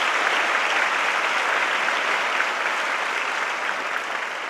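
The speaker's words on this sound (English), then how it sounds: "A big round of applause to everyone for making this possible." A large audience at a Navaratri celebration evening claps steadily, a dense even wash of applause that stays loud throughout and eases only slightly toward the end.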